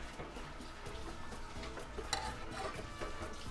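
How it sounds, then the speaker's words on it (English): Cooked pinto beans are mashed with sauteed onion for refried beans, giving soft, wet squelching and irregular scraping strokes in a pot, fairly quiet and close, with a few sharper clinks of the utensil. "we're just gonna get to mashing these beans"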